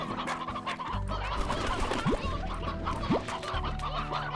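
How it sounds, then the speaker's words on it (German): Chickens cluck in the video game Slime Rancher, steady close clucking with a couple of rising chirps over a constant in-game background hum and music. "Ah, ein altes Huhn nehme ich mit."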